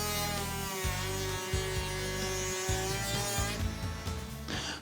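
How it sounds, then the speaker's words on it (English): A router table spinning a bit at high speed while a wooden cabinet door workpiece is pushed past it on a sled, a loud steady whine with shifting cutting noise close by, tapering at the end. "I'll make the cut by pushing the workpiece smoothly past the bit"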